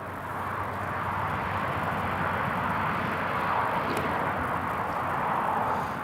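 Ryanair airliner at Newcastle International Airport, a broad, steady jet roar held at moderate distance for several seconds with no talk over it.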